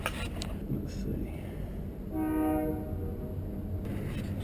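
A freight train in a Winnipeg rail yard with a low rumbling background and a short horn-like tonal blast in the middle, moderately distant, no speech.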